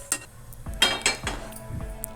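A metal pan is set down on a kitchen stove while Maggi noodles are being made, giving a few sharp clinks and knocks close by, each ringing out briefly.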